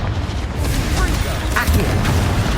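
A Confringo fire spell bursts in Hogwarts Legacy with a loud, rumbling boom that sustains through a dense low roar, mixed with game effects and a voice in the background.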